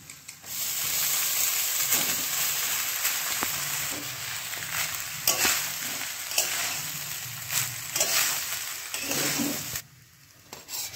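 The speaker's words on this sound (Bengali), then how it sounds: "এবার আমি জল ঝরানো ভাত দিয়ে দেবো" Drained cooked rice hits a hot pan of lightly fried cashews and raisins and is stir-fried for wedding-style fried rice, giving a steady close sizzle with scattered scrapes and clinks that eases near the end.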